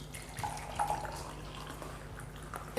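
Alkaline water at pH 11.5 is poured into a glass of oil, giving a quiet, continuous watery trickle with a few faint drips and splashes over about three seconds.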